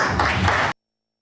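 Short burst of audience applause at a design conference, steady close clapping that cuts off abruptly after under a second.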